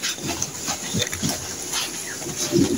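Piglets on a hog farm giving short, soft squeals and grunts in quick bursts against a faint barn hum.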